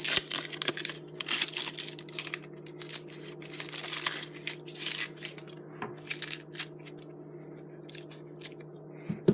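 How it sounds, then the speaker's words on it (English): Crackly tearing and crunching as the dry outer skin is peeled off an onion on a cutting board, a dense run of close, uneven rustles and crisp snaps with a steady low hum beneath. "what this will allow us to do is to peel off the outside skin"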